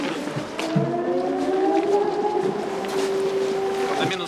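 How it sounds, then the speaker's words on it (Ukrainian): An air raid siren wails steadily at a distance, its tone slowly rising and falling, over street ambience during wartime in Ukraine. "Повітряна тривога."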